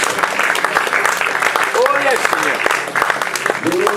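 A church congregation bursts into loud, sustained applause to acclaim the Lord, with voices shouting and calling out over the continuous clapping.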